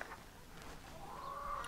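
Chickens cluck briefly on a small farm where goats are milked, a short nearby burst of clucking with no talk.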